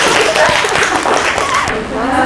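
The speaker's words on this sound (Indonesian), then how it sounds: "tepuk tangan" Classroom applause after a group presentation is announced, a steady burst of clapping from students mixed with voices, close and fairly loud.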